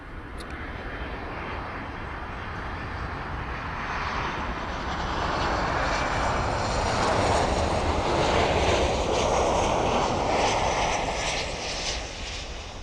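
A passenger jet airliner at Miami Airport, the kind a 737-800, 737 MAX 8 or A321neo would make, gives a broad roaring rumble that swells to a peak midway and then eases slightly, heard from a distance with no voices.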